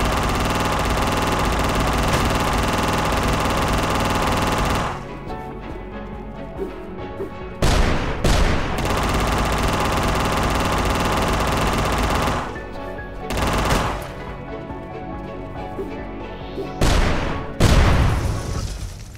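Heavy machine gun fire from a boss in the video game UnMetal, loud sustained bursts with booming impacts, stopping briefly and starting again in several rattling volleys over a busy game soundtrack.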